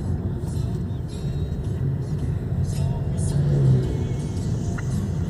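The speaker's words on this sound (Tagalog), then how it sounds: "Daming trucks dito ah." Steady low engine rumble and road roar from a vehicle moving along a potholed road among many trucks, cars and jeeps, with traffic noise continuous throughout and rising slightly near the end.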